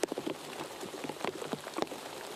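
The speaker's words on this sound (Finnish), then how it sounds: "Sade ropisee nyt tuolla maastossa" Rain pattering down on open forest terrain during an orienteering relay race, scattered close drops striking the ground in an uneven, irregular patter of soft taps.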